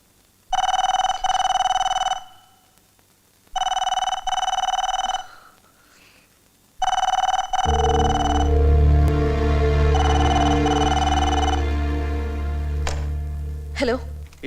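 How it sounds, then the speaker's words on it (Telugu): A telephone bell rings in three loud, evenly spaced bursts inside a house, then the last ring gives way to background music and a thump. "ఇంట్లో ఉండి ఫోన్ ఎత్తవేంటే?"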